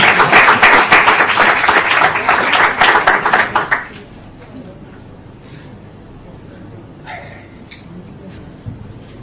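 Audience applause for two volunteers at a math-magic talk, a loud burst of clapping for about four seconds that cuts off abruptly, leaving quiet room tone with faint movement.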